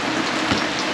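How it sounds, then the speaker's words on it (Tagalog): Heavy rain pours down in Pangasinan, Philippines, as a dense, loud, continuous hiss of drops hitting surfaces. "Ang lakas po ng ulan."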